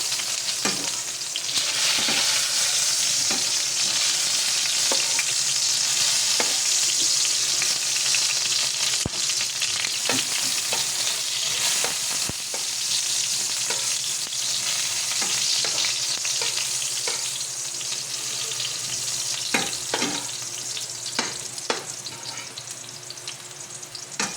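Eggplant slices fry in hot oil in a pan, a loud continuous sizzle with scattered clicks and scrapes as the pieces are turned, no voices.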